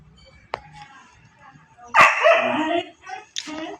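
A puppy gives a sharp yip, then a louder burst of barking and whimpering close by, with a final short yelp, over quiet room background.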